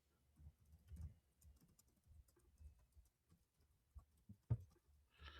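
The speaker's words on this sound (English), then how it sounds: "I'm typing." Typing on a computer keyboard, quiet irregular clicks and taps in rapid bursts, close by, with a sharper louder keystroke near the end and no talk.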